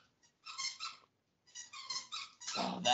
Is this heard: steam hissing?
no